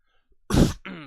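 A single short cough, close and fairly loud, after a brief quiet moment, ending in a rougher throat-clearing rasp.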